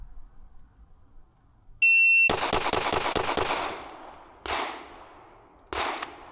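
Glock pistol with its stock 5.5-pound OEM trigger fires a rapid string of sharp, loud shots close by, then two more separated single shots after short pauses, following a brief electronic beep.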